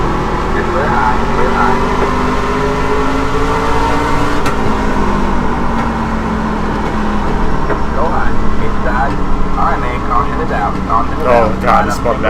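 A truck in the iRacing video game, in a Class C fixed truck series race at North Wilkesboro, loudly drones and revs through a spin with shifting engine pitch, while a voice talks over it.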